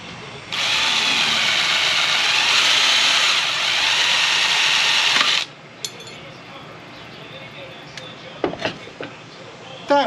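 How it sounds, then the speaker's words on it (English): A power drill bores out rusted rivets on the upper tailgate of a classic Range Rover, whining loudly and steadily for about five seconds before cutting off, followed by faint clinks and handling noises. "I'm gonna have to drill these two rivets out"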